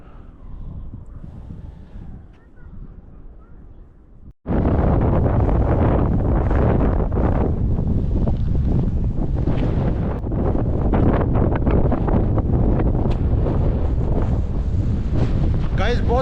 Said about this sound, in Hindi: गाइस, बहुत तेज़ हवा चल रही है, शायद आवाज़ में मसला हो